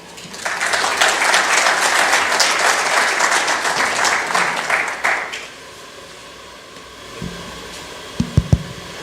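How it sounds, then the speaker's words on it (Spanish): Loud, dense applause from a human rights seminar audience, sustained for about five seconds before cutting off to quiet room tone with a few faint knocks and bumps near the end. "Les damos un fuerte aplauso."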